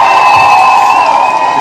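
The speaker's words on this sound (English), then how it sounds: "Let's give Hajil a round of applause" Crowd cheering and whooping for a guest at a live gathering, a steady loud roar of voices and a sustained high whistle lasting throughout, with little clear clapping.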